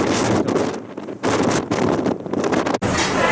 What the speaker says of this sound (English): as I go back into the wind and craziness